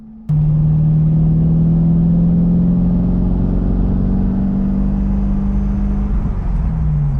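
A C5 Corvette's aftermarket axle-back exhaust drones loudly and steadily, a deep throaty rumble holding a low tone with slight revving shifts, no voices.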